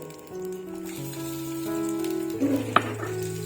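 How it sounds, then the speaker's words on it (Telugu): Onions, ginger and garlic frying in oil, a soft sizzle beneath steady tonal hum, rising toward the end with a sharp clatter as ingredients hit the pan. "నూనెలోనే ఇప్పుడు మనం కట్ చేసి పెట్టుకున్న ఉల్లిగడ్డలు కూడా వేసుకోవాలి"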